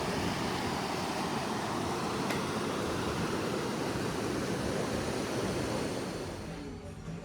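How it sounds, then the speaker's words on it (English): The Sneem River rushes past in a broad, steady hiss of flowing water, close and unbroken, fading slightly at the very end. "And this is the Sneem River."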